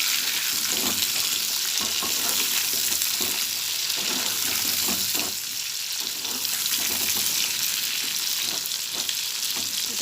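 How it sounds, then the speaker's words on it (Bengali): Pointed gourd (potol) frying in oil in a pan after prawns, giving a continuous close sizzle with faint crackles, steady and moderately loud with no voices. "এবার পটল ভাজা বসিয়েছি"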